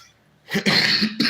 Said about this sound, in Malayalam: ചെറിയ ചുമ പിടിച്ചോളൂ